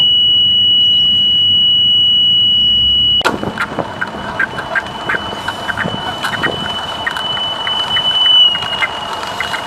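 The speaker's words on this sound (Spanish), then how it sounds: "el zumbador está quieto y es el señor de la bici el que lleva el micrófono y el ruido que oímos nosotros es lo que oye el de la bici" A stationary electronic buzzer picked up by a microphone riding on a passing bicycle, a steady tone whose pitch shifts with the Doppler effect, heard over road and wind noise with clattering and bumps after the first few seconds.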